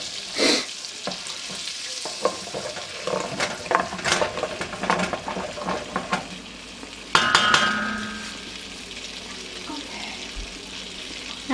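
Butter melting in a pan for baked macaroni and cheese gives a soft sizzle under repeated scraping and clinking of a stirring utensil, followed by a brief louder burst of hissing.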